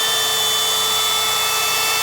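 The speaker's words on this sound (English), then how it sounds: "Drilled out the nuts" A drill grinds steadily through seized nuts and bolts on a Subaru Impreza rally build, a loud, continuous high-pitched whine that holds the whole time without pause.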